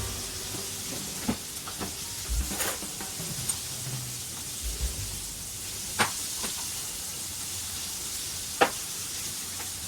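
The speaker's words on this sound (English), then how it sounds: "while I'm cooking breakfast" Breakfast sizzles in a pan with a steady frying hiss that runs throughout, close and moderate, broken by occasional soft clicks and pops and no talking.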